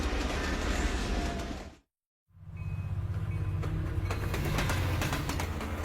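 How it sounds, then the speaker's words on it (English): A passenger train rolls through the Canadian Rockies on a clear morning, giving a steady low rumble with rhythmic clicking wheels. The sound cuts out for a moment, then the same heavy rolling noise returns. "Breakfast is being served as the train rolls east through the Canadian Rockies."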